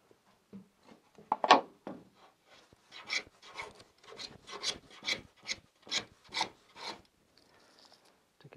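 A hand tool takes shaving strokes off the wooden skeg of a 2.4mR sailboat backbone, a string of close rasping scrapes in a quick, steady rhythm after a few lighter touches, with no talking.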